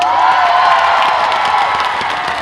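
A large outdoor festival concert crowd at a closing performance claps and cheers in a dense, loud, continuous wash of applause with scattered whoops, fading slightly toward the end.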